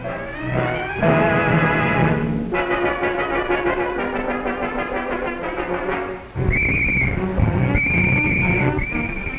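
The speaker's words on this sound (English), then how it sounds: "When the warden's whistle blows" A warden's shrill whistle sounds in several repeated blasts near the end, over a loud, steady background of noise and tones, during a 1943 Canadian air-raid alert.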